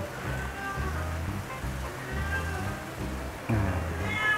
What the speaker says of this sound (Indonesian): Ini kucing Bambino